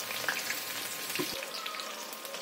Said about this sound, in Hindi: तो अब इसमें प्याज डाल दूंगी मैं